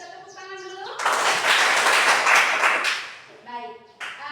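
Classroom of students clapping hands together on cue, a loud dense burst of clapping lasting about two seconds, framed by a teacher's voice before and after.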